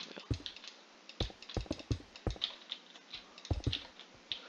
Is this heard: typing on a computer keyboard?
yes